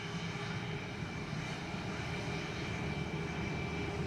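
American airliner flight 2618 on its takeoff roll from runway 25, a steady, distant engine roar with broadband rushing noise holding even throughout, no voices.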